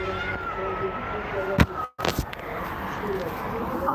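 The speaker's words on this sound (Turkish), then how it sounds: "aşağıda iki tane kedi mavlu mav mav mav diyor şurada" Cats meow a few times, drawn-out cries rising and falling, with traffic-like background noise and a couple of sharp knocks.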